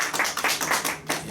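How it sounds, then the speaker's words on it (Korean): A small seminar audience at a medical ultrasound workshop claps to welcome a lecturer, in a short burst of close hand claps that pauses briefly and then resumes. "박수 부탁드립니다"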